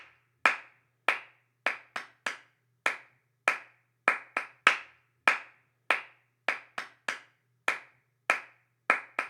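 Hands clap out a simple counted rhythm in a practice setting, about sixteen sharp, distinct claps in an uneven pattern, loud and close, with no voices.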